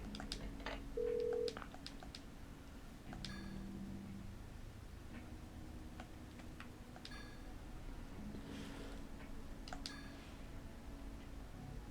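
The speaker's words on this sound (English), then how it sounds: "You find a phone, you call headquarters" A phone in the Parasite Eve 2 video game dials headquarters to save, making a short tone followed by a quiet run of dialing beeps and ticks over a low hum, faint and with no voices.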